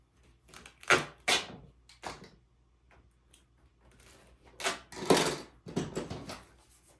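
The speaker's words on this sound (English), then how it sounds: "I'll give myself a nice edge on the duct tape with the knife." A knife trims the edge of duct tape on a homemade plein air watercolor sunshade, giving a few quiet, scattered crisp rips and scrapes with short pauses between them.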